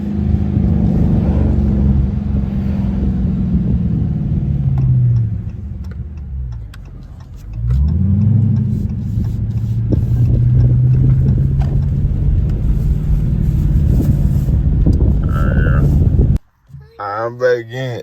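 A straight-piped Dodge Charger R/T engine drones loud and steady while driving, its pitch dipping as the car slows and swelling again on acceleration, then cutting off abruptly near the end, with some talk over it.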